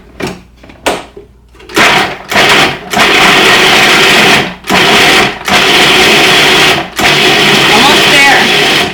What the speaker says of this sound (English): we're going to start pulsing this to turn it into flour